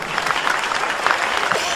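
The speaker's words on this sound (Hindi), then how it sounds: "आइए एक बार जोरदार तालियां मुकेश मासूम के लिए" A live audience at a comedy poetry show bursts into loud, dense applause for poet Mukesh Masoom, a short, close wash of many hands clapping together.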